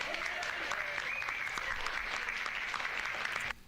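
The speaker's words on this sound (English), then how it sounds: "So I'm giving her a round of applause" A short, fairly faint burst of continuous applause lasts about three and a half seconds during a live commentary stream, then cuts off abruptly.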